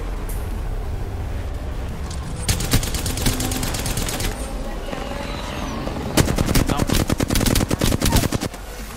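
Gunfire in Apex Legends, a battle royale shooter: two long rapid automatic bursts, the second louder and closer, with scattered battle noise between them and faint talk in the background.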